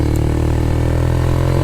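Yamaha YS125 motorcycle engine pulling in a lower gear on a steep hill, a steady buzzing drone with a throbbing low pulse, close and continuous without speech.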